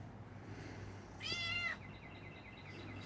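A tiny black kitten gives one clear, high meow, close and fairly loud, against a quiet background with a faint second call trailing after.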